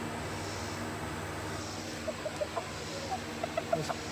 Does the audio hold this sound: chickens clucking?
yes